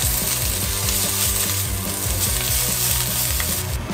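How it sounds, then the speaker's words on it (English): Shrimp frying in olive oil in a hot pan, a steady, dense sizzle that runs unbroken throughout, with rhythmic music playing underneath. "We spread out the shrimp, and off they go to the stove"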